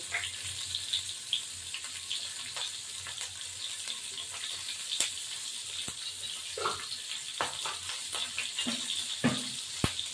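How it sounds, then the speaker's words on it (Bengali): Nigella seeds tempering in hot oil, a continuous bright crackle with scattered sharp pops and a few clinks, heard close with no talking. "তেল দিয়ে তো কালো জিরে ফোড়ন দেবো"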